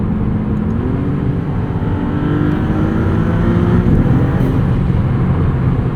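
A Maserati MC20 engine pulls hard and loud, droning steadily through rising revs with quick DCT upshifts breaking the pitch, heard continuously from the cabin with no talk.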